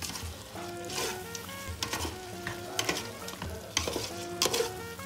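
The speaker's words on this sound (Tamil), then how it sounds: "தயிரையும் ஆட் பண்ணிட்டு நம்ம இதை நல்லா கிளறிக்கும்." Curd being stirred into mutton biryani in a pot: a spoon scrapes and churns the thick mix in repeated close strokes over a soft sizzle, with no talking.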